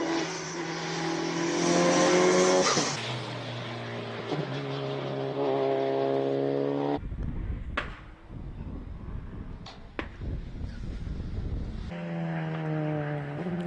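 A Honda Civic Type R races through the final corners of a hill climb practice run, its engine rising and falling through gear changes, loud at first, then fading into a more distant rumble before swelling again.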